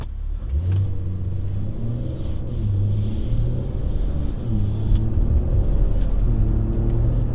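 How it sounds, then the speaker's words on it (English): A 2021 BMW X7 SUV pulls out onto the road, its engine rising and falling through several revving pulls as it accelerates and shifts, heard steadily from inside the cabin. "we're gonna actually get up on the road and see of how this vehicle performs in the open, in the wild"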